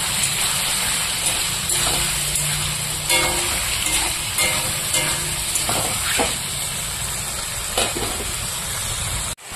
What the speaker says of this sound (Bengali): মেটেটা আমি ভালো করে একটু ভেজে নেব।